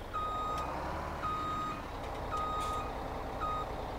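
A truck in Farming Simulator 17 sounds regular reversing beeps, four evenly spaced tones over a steady engine drone, close and without talk.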